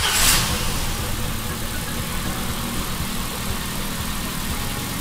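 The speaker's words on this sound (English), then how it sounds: "So what we need to do now is to turn on the engine." A car engine idles steadily right after starting, during a coolant change. The mid-pitched hum stays loud and even, with a faint knocking texture and no talk.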